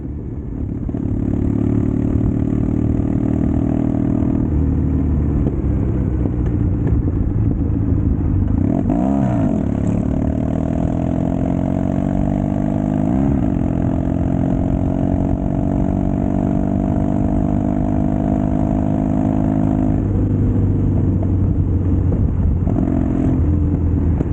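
A Triumph Bonneville motorcycle with a loud exhaust and a loss of power, its engine droning steadily while riding, with pitch rising and falling through gear changes and a few brief exhaust pops as it slows for a corner.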